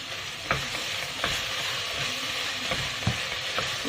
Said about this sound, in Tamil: வெங்காயம் தக்காளி நல்லா வதங்கணும்